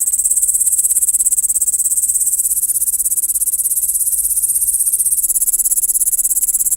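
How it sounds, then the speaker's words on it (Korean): A katydid buzzes in a loud, continuous high-pitched trill that holds steady from start to finish, close and alone. "여치의 날개는 악기의 현과 같다."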